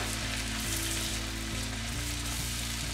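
Garlic shrimp scampi sizzles hard in a hot pan as it is stirred, a dense, continuous frying crackle with soft clicks of the utensil, close and loud with no talking.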